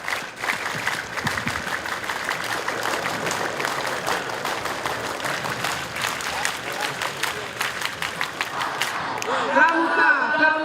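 A crowd at a Pramuka scout anniversary ceremony in Jakarta claps in loose, rhythmic bursts for several seconds. Voices then rise near the end, with shouting or chanting over the last of the clapping.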